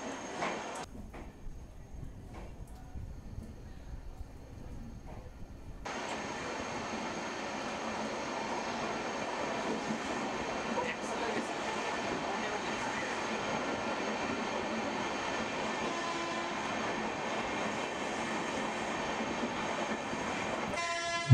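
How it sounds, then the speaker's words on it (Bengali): Passenger train pulling out of Malda station, wheels rumbling and clattering steadily over tangled tracks at slow speed, a loud continuous broadband roar after a quieter opening stretch, with no talk. "মন্থর গতিতে সাপের মতো এঁকে বেঁকে আমাদের গাড়ি রেল লাইনের জট কাটিয়ে এগিয়ে চলল সামনের দিকে।"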